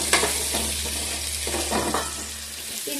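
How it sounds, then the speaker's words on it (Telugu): Ivy gourds fry in hot oil, a continuous sizzle broken by several scraping stirs of a spatula in the pan, close by with no speech. "ఇప్పుడు దొండకాయలు వేపుతున్నాను."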